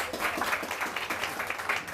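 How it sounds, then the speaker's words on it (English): Audience applause at a book launch interview event, a dense, even patter of many hands clapping at moderate level, continuous and fairly close, with no speech over it. "can we please have a round of applause for Ellen Fanning and Fiona Higgins."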